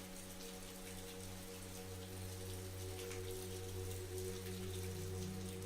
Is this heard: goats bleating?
no